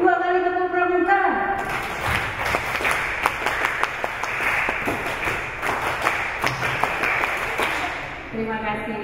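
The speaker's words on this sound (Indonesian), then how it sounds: "2 kali tepuk pramuka." A workshop audience performs the Indonesian scout rhythmic clap, tepuk pramuka, a sustained patterned burst of many hands clapping together, framed by a speaker's voice just before and after.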